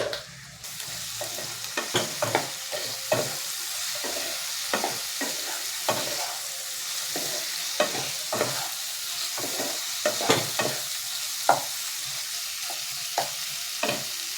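Spice masala frying in a pan for an egg and lentil fritter curry, with a steady sizzle under irregular scraping stir strokes close by, no talking.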